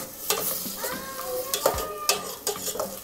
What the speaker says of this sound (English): this has been sauteing for about 5 to 7 minutes